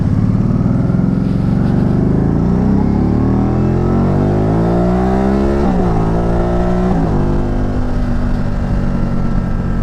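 Loud, close Spyder ST-S engine accelerating hard, its note climbing steadily through the revs with two quick gear changes before pulling strongly again, no voices over it.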